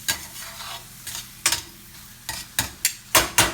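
Oyster mushrooms with shallots and garlic sauté in a pan, a light steady sizzle broken by several sharp scraping stirs that grow louder and closer together toward the end.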